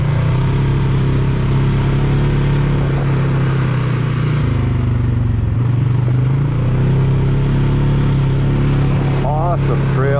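ATV engine droning steadily along an off-road trail, a loud continuous motor hum with shifting pitch as it rides, with voices talking over it.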